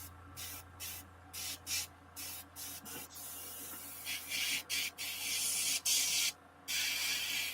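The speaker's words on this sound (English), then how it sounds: "somebody's airbrushing" An airbrush sprays ivory paint in short, repeated hissing bursts, followed by a longer continuous spray, close and fairly soft, with a low steady hum underneath.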